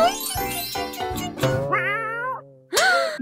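A cat meows several times in a row, drawn-out and rising, fairly close and clear, with short pauses between calls and no talking.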